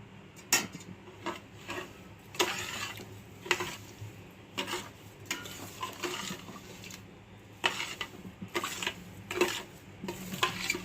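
Pineapple muramba jam being stirred in a pot, a spoon scraping and knocking against the metal in repeated bursts with a steady low cooking hiss beneath, close and fairly loud, no voices.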